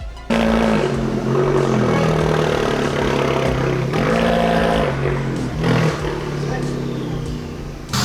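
A stage 2 tuned Competizione runs on a rolling road dyno, its engine note loud and continuous with rising and falling revs and clatter, while people talk over it in a workshop.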